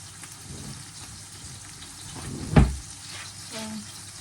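Steak frying in a hot pan while being pressed down, giving a steady close sizzle that swells into a brief louder crackling burst about midway before settling back.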